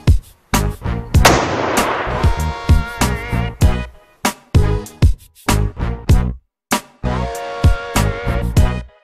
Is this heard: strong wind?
no